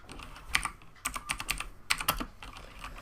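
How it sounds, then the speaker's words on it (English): A Razer BlackWidow Ultimate mechanical keyboard is typed on in uneven bursts of crisp, clicky keystrokes, fairly quiet and close, with short pauses between flurries and no talk. "Now I know I'm not the fastest typer in the world, but you know, it's even harder whilst I'm talking"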